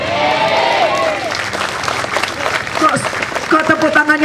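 Scattered, half-hearted clapping from a congregation at a revival church service in Mamasa, running under a voice that talks over it throughout.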